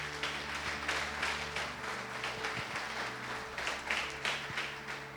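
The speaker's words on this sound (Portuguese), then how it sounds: "Aplauda o Senhor, querido." A church congregation applauds during a service, a faint, steady wash of many hands clapping at a distance, with a low hum underneath.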